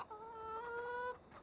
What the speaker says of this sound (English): good morning, chickens.